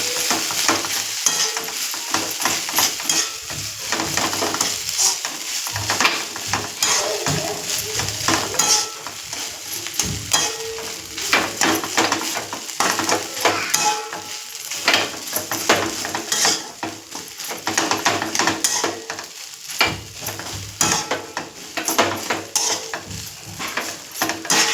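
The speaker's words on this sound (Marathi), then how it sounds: "इथे आपण शिल्लक राहिलेला भात घालणार आहोत आणि छान मिक्स करून घेणार आहोत" Leftover rice is stir-fried in a pan, with a steady sizzle under frequent metal spatula scrapes and clinks against the pan, close up and busy throughout, no talking.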